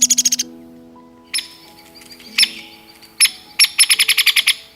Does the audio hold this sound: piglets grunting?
no